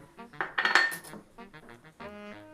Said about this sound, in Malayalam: ഇതെല്ലാം കൂടെ ഒന്ന് മിക്സ് ചെയ്തെടുക്കാം കേട്ടോ